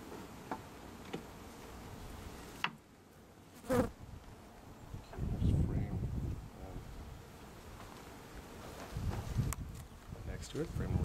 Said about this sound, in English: And they're really nice yellow bees.